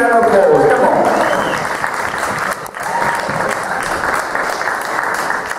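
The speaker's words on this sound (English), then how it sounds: "give us a huge round of applause, come on." Loud, sustained applause from a theatre audience after a stage hypnosis show, steady and close, swelling near the start and dipping briefly midway before continuing, with some voices mixed in.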